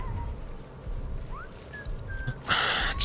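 Short whistled notes from a character in the video game Atomfall, faint rising and sliding tones over a low rumbling game ambience, followed by a burst of hissy noise at the end.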